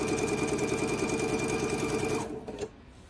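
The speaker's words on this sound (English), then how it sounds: "I'm going to hold it in place and I'm going to sew this one" A home sewing machine stitches pieced fabric scraps, a fast, steady mechanical whir with rhythmic needle chatter running close and even for about two seconds before stopping, followed by quiet handling noise.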